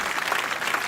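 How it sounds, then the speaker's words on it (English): A short, dense burst of hand clapping, like a round of applause, loud and steady for under a second with no voices. "I got a hand clap."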